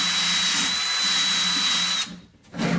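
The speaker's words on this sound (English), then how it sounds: "I just use a wire wheel on a drill. Get the oxide layer off, get down to the bare aluminum." A drill spins a wire wheel against aluminum on an aluminum boat repair, stripping the oxide layer in a loud steady whine with a high tone, briefly stopping then spinning up again near the end.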